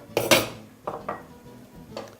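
A spoon clanks against a pot as rice for chicken fried rice gets a short, quick stir: a couple of sharp metallic knocks, then softer scrapes and one last tap, close and alone.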